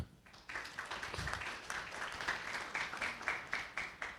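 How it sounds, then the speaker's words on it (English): An audience at an Islamic center gives a round of applause, moderate clapping building after a brief pause and continuing with rhythmic swells, somewhat distant and fairly quiet. "Let's have a round of applause."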